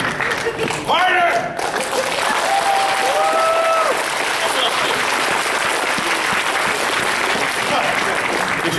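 A convention audience at a cartoon-themed fan panel claps loudly and continuously, with whoops and shouted voices over the dense applause early on before it settles into an even, sustained roar.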